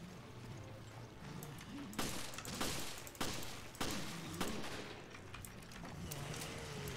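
Gunshots in the Resident Evil Revelations video game, several sharp bursts about a second apart standing out over a steady background of game ambience.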